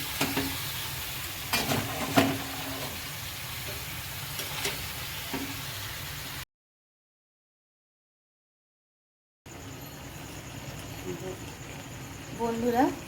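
Shredded, washed cabbage frying in a pan: a close sizzle with a few stirring scrapes, cut by a stretch of dead silence, then returning hiss with clinks near the end.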